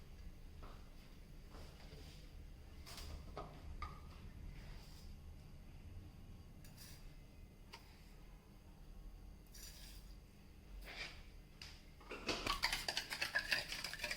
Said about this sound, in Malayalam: കുറച്ച് പഞ്ചസാരയും കൂടി ചേർത്തിട്ട് നന്നായിട്ട് മിക്സ് ചെയ്തെടുക്കാം